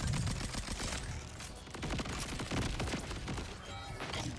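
Rapid, continuous bursts of Jakobs assault rifle fire in Borderlands 4, with dense overlapping shots and heavy thumps that fill the scene without pause.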